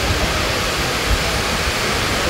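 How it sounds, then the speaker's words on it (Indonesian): Heavy rain pours down steadily on Stadion Mandala in Jayapura during a Persipura versus Persipa Pati football match, a dense, even hiss with no break and no voices. "Hujan deras mengguyur laga Persipura Persipa Pati yang berlangsung di Stadion Mandala Jayapura."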